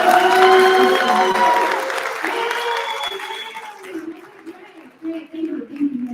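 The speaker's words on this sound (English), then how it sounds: "let's clap very hard, very hard, like something very, very important is about to happen" Audience at an indoor youth summit event in Istanbul claps hard, a loud dense burst of applause that gradually thins out and fades, with scattered claps and a voice speaking near the end.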